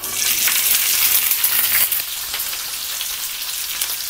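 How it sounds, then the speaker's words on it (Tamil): Curry leaves and garlic crackle and sizzle in hot oil with mustard and fennel seeds, a dense, steady hiss close by, slightly louder at first then settling into a constant spatter. "நம்ம இது கூட கருவேப்பிலையும் பூண்டும் சேர்த்துக்கலாம்."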